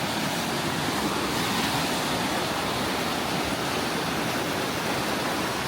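A river beside an iron bridge in snowy mountains rushes steadily, a dense, continuous roar of flowing water with no pauses.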